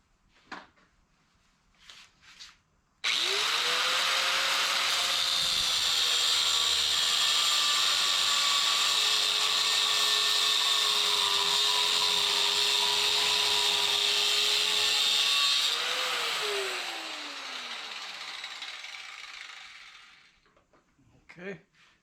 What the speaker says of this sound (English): I'm going to cut these threads right about there